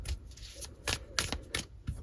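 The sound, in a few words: tarot cards being shuffled and pulled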